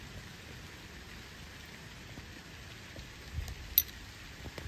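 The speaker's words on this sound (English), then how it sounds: "That rain sounds nice coming down, don't it?" Rain comes down steadily as a soft, even hiss with faint scattered drops, quiet and continuous, with one brief sharper tick near the end.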